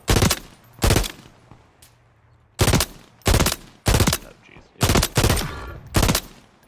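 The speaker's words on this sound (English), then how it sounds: "Shooting those guys over there, Corey, at the two bar." Gunfire in Call of Duty: loud, close bursts of rapid shots in short volleys separated by brief pauses, about seven bursts in all.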